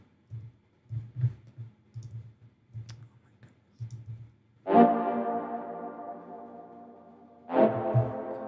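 A gated Tony Montana synth preset from the Fuego expansion pack plays in a beat: soft choppy clicks give way to two loud sustained chords, the second entering near the end, with no talking.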